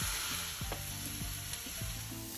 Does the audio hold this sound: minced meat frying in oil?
yes